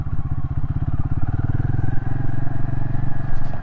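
An adventure motorcycle rides off-pavement on sandy ground near a river, its engine a loud, close, steady pulsing thrum throughout, with no talk over it.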